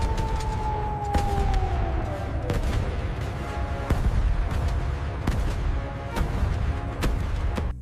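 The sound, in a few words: gunfire sound effect, army firing at the sky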